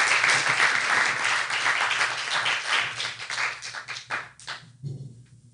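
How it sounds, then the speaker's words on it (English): Audience at an international women's empowerment forum in St. Kitts clapping together, a full burst of applause that thins into scattered claps and fades out near the end. "I want us to give them a round of applause for their innovation."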